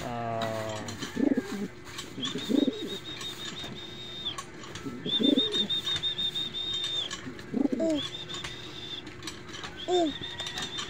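Charlotte's pet bird gives soft, low, dove-like coos in repeated short bursts roughly every two to three seconds, alongside a thin steady high squeak that comes and goes in the background.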